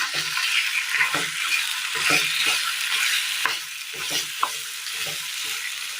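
Boiled mashed potato being stirred into a frying masala in a Kerala kitchen: steady sizzle throughout with repeated soft scraping strokes of a spoon against the pan, close and fairly loud, no talk.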